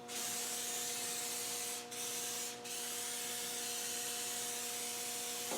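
Rustproofing spray coating being applied under a Land Rover 130, a loud, close, continuous hiss that is broken twice by short gaps as the nozzle is released, with no talking.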